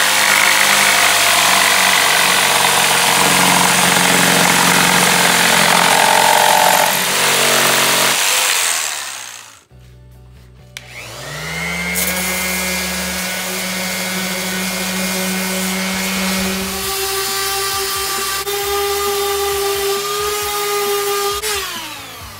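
A jigsaw with its blade set at an angle cuts plywood for a live edge epoxy resin table, buzzing loudly and steadily up close, stopping briefly, then starting again with a rising whine.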